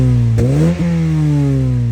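Toyota hot hatch with a factory TTE exhaust, a loud close engine note with a sharp rev blip and a second quick throttle stab before settling back to a steady idle-like hum.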